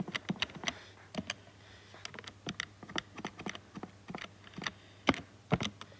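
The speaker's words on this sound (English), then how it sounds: "And if you type that into the calculator," Buttons pressed on a calculator during a Year 10 maths lesson, a run of sharp, irregular close taps with short pauses, alone with no talk over a faint low hum.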